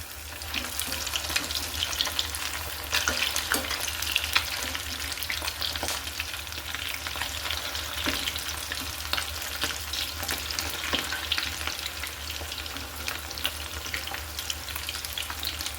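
Soft fish kebabs fry in hot oil in a pan, giving a steady close sizzle with crackling pops and occasional scrapes of stirring, and no voices.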